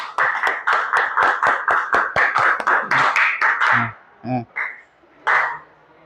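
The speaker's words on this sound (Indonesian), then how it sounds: "Beri tepuk tangan buat Tegar." A small classroom group gives a student a short round of applause, about a dozen sharp, rhythmic claps that come fast and even, then fade into a few scattered claps and brief voices.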